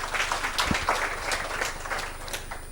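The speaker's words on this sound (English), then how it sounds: "I think you need to clap for yourselves" Scattered clapping from a crowd at a cooperative society's annual general meeting, a thin patter of hands that stays moderate and steady without building into a roar.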